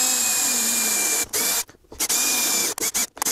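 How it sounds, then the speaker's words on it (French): A power drill bores into wood on a box assembly, its whirring motor revving in short bursts separated by brief pauses and stops. "Je vais pouvoir maintenant passer au perçage."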